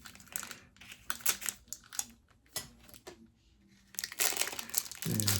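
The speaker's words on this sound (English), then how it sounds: "Let's use these scissors." Scissors cut open a cardboard box with crisp snipping and crinkling bursts at an uneven pace, close and fairly loud, ending in a louder rustle of handling.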